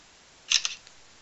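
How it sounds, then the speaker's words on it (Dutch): A camera shutter fires in a quick cluster of crisp, close clicks, taking photos briefly in an otherwise quiet room. "Nou, ik ga nog even foto's maken van mezelf."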